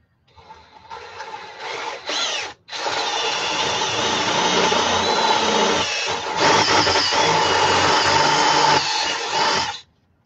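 A power drill bores into an engine crankshaft through a bushing and guide, whining loudly and steadily in long close runs broken by a few short pauses, with no talking.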